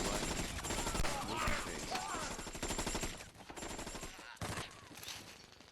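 Rapid gunfire rattles continuously from video playback, with dense overlapping bursts like a fusillade or machine gun over a noisy mix, loud and unbroken for several seconds.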